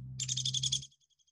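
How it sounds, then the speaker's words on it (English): A Downy Woodpecker calls in a quick series of high, squeaky chirps over a steady low hum, then trails off into a few fainter, evenly spaced notes. "Yes, that's a Downy Woodpecker."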